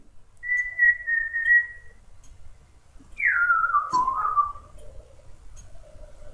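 A parrot gives two clear whistles, first a steady held tone, then a higher note that slides downward and wavers, heard close against a faint background with no talking.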